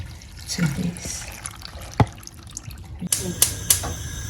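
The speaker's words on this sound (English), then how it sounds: "I'll add some water to this" Water is poured into a stew pot already holding salt, half a stock cube and a bay leaf, giving soft trickling and splashing with a few sharper drips and clinks, moderately close.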